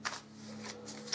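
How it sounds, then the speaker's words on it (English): Tarot cards being shuffled by hand, giving a quiet, close papery riffle in a few soft bursts across roughly a second, with no voices. "Just another shuffle or two."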